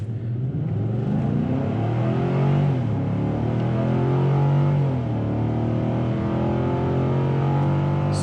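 A 2020 Nissan Titan XD pickup with a 9-speed transmission accelerates hard from a standstill, its engine rising steadily and loudly with audible gear shifts in a continuous close-up roar from inside the cab.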